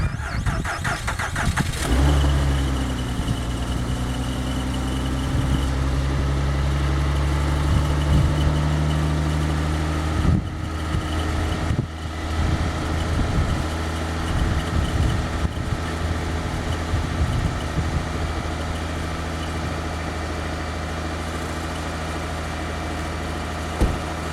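A Saturn VUE with 152,544 miles on it cold-starts: a brief cranking whir catches into a rough, loud engine that settles into a steady, slightly uneven idle with a low drone, heard close up.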